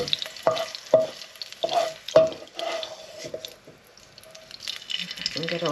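Onions cook in a little fat in a pan for Greek-style orzo, with a scraping spoon giving sharp stirring clacks, a soft sizzle and some wet clatter throughout.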